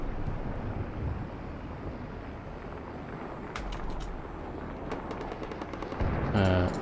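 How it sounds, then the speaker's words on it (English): AK rifle fire in the video game Combat Mission: Cold War, heard as a few sharp distant shots over a constant rushing wind-like noise, ending in a louder burst near the close. "It's just a dude with an AK."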